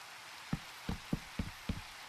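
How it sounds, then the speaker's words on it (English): Rain falling in the Minecraft survival game, a steady high hiss of rainfall with a few distinct low thuds spaced through it, and no voices. "Don't you love the rain?"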